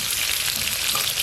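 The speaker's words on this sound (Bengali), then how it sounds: "তেল তো বেশ ভালো করে গরম হয়ে গেল। এবার আলুগুলো ভালো করে লাল লাল করে ভেজে নেব।" Potatoes frying in well-heated oil crackle and sizzle loudly and continuously up close for a short stretch, with no speech.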